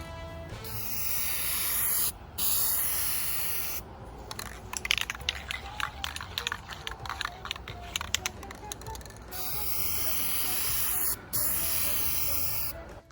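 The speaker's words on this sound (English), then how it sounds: "I love spray painting." Hammered metallic silver spray paint hissing from an aerosol can onto furniture, long steady bursts separated by short pauses, with a patch of softer rattling and scuffing in the middle, close and fairly quiet.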